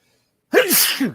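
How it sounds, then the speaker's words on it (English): A single sharp sneeze, close and loud, with a quick intake followed by an explosive burst. "Now I'm just sneezing"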